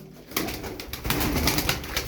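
Milk-white crested pigeons coo close by in low, throaty repeated calls, with feather flutters and rustling around them.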